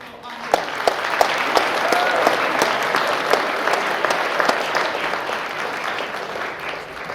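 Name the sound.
audience applause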